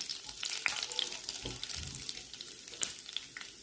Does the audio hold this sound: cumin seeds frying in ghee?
yes